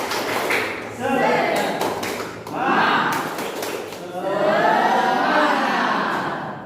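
An audience at an Islamic lecture performs the rhythmic 'tepuk semangat' clap routine: patterned bursts of group clapping, punctuated by sharp beats, alternate with loud chanting voices.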